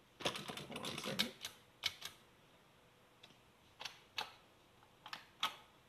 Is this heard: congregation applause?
no